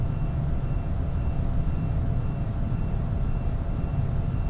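Glasair Sportsman light aircraft engine droning steadily in cruise flight at altitude, a loud continuous cabin hum with no break.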